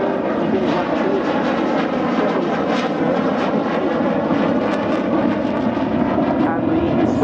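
A SAAB Viggen AJS37 jet performs a flying display at Waddington Airshow, its engine producing a continuous loud roar with a tonal whine and shifting pitch, steady and unbroken across the clip.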